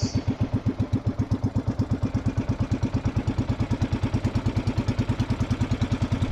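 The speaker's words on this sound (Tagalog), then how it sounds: "umandar ng makina" A boat engine running near at a steady, fast idle, its rhythmic thumping beat continuous and even throughout, with no talk.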